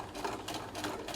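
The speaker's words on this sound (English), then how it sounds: "at the end you do with a back stitch again to anchor the stitch" A sewing machine stitches backward to anchor the end of a seam, a brief, quiet, steady mechanical hum with faint rhythmic pulsing.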